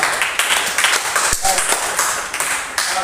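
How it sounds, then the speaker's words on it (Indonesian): A classroom applauds a student presentation group, a lively round of clapping from many hands that continues throughout, with voices talking over it. "Tepuk tangan dulu untuk kelompok Kamboja"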